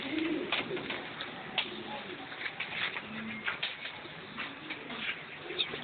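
Pigeons coo softly in a pigeon loft in Meknes, low throaty calls repeating irregularly amid faint rustling and shuffling, with scattered brief chirps nearby.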